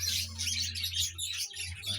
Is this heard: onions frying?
no